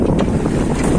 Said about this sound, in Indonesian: Ini atap saya hampir lepas ini angin.